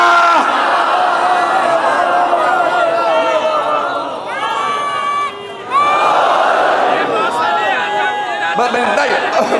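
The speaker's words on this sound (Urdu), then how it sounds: "معذرت کے ساتھ جتنے نعرے لگ رہے ہیں سن لیجیے گا" A large crowd at a Shia majlis shouts religious slogans in loud collective chants, rising voices surging and falling with brief dips, dense and near throughout.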